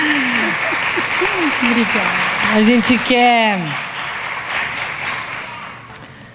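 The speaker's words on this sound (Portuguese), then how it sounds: "Vamos aplaudir a Moara, gente?" Audience applause at a year-end closing gathering, a steady wash of clapping that carries through the whole stretch while someone speaks over it and says a brief thanks.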